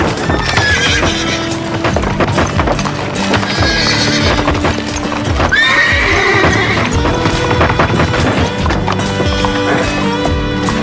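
A horse neighs and whinnies amid busy clip-clop hoofbeats and crowd commotion, loud and close, with shouting voices mixed through.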